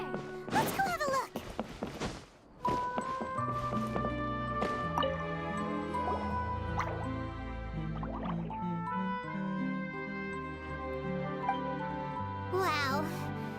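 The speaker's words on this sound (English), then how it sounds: "Oh, it sounds like a water droplet is on the second floor." Water droplet sounds from the video game Genshin Impact: bright plinking drips and bubbly squishes scattered over sustained chiming game music, with a quick rising flurry of drips near the end.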